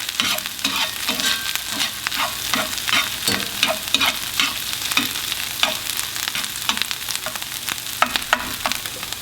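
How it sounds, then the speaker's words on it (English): Tempeh sizzles steadily in hot oil in a pan while a utensil stirs it, with repeated scraping knocks over the continuous frying hiss, loud and close. "Add a little bit more oil. And then stir it around real well."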